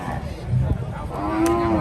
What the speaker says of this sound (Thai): ฝั่งของวัวนะครับ